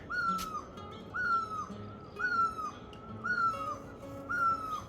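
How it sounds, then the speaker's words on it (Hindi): Birds call around a house in a mountain village with a repeated high call, about five evenly spaced calls with short chirps between them, fairly faint over a quiet outdoor background, with no talking. "और आसपास देखिए पक्षियों का शोर।"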